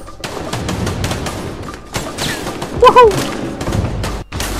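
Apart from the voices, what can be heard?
gunfire in the video game A Way Out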